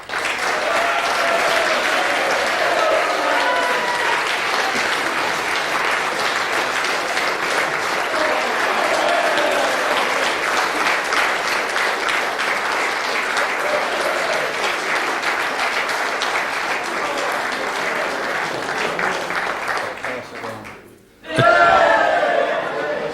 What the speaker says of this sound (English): can we equally have a round of applause to the other finalists, Team Wales?